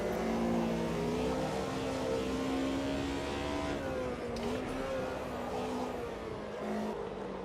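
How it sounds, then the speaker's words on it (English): Race car with an H-pattern gearbox in the Automobilista 2 racing game, engine revving high in a sustained whine that dips and climbs again through gear changes, continuous and unbroken by talk. "Something so satisfying about driving a car with an H-Pattern gearbox, especially one that revs out like this, and it's just slam that next gear in"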